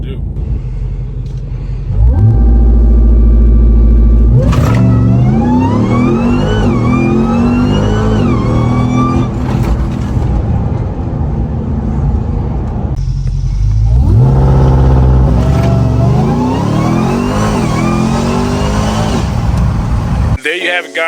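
A RAM TRX pickup fitted with a JMB Performance intake accelerating hard in two loud runs. Each starts with a deep idle rumble, then surges into a rising roar through the gears, heard up close with little else over it.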